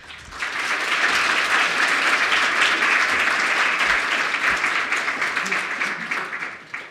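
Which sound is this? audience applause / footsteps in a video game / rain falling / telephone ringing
audience applause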